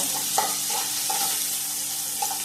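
Chopped onions fry in a pan for onion chapati, giving a steady close sizzle with a few light stirring scrapes and no voices.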